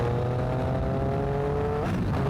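A Triumph Street Triple motorcycle accelerates hard, its engine note climbing steadily in pitch through a loud, close run with no talking, then dropping abruptly near the end as the gear changes.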